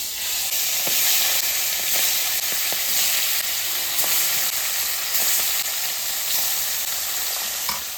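Small hilsa fish frying in hot oil, a steady loud broadband sizzle and hiss that holds constant throughout, close up with faint occasional pops.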